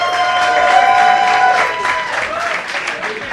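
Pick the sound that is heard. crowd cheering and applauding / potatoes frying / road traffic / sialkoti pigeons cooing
crowd cheering and applauding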